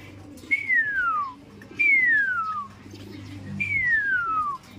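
Three long descending whistles, evenly spaced, each sliding downward in pitch, over a low background hum with no talking.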